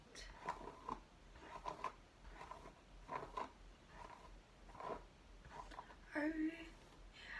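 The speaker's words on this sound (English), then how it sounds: "So I'm just going to brush that out." A hairbrush is pulled through long hair, mostly at the ends, in a run of soft, rhythmic, bristly strokes about one every second. The sound is close but faint.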